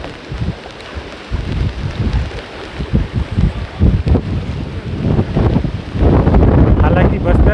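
Fast-flowing rainwater stream on a rural road in the Bastar region, a broad continuous rushing wash swelling louder toward the end, with wind buffeting the microphone.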